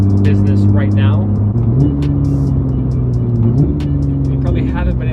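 A Porsche 911 GT3 with a PDK gearbox and Fabspeed exhaust drives at a steady throttle, its deep engine drone loud and close, with a couple of gear-change blips and a voice talking over it.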